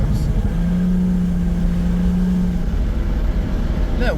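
A Toyota Supra's 7M-GTE engine pulls under heavy throttle, a loud, close, steady drone with a sustained humming tone running through the middle of it.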